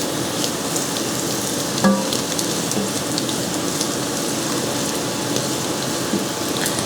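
Garlic sautéing in a cast iron Dutch oven, a continuous bright sizzle and crackle with a few small clicks, steady and close, no voices.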